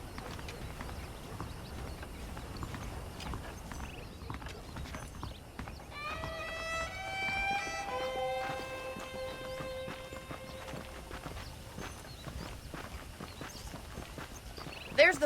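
Horse hooves clip-clop at a steady walking pace while riding in the Red Dead Redemption video game, moderately close under a continuous outdoor ambience, with a brief tonal whinny-like cry in the middle of the stretch.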